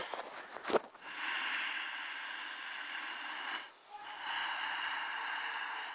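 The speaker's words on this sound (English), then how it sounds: "It's not snoring. It is called Udgita Ujjayi." Udgita Ujjayi yogic breathing, a deep throaty exhale drawn out for several seconds, a brief pause, then another long rasping breath, close and alone after a short sniff at the start.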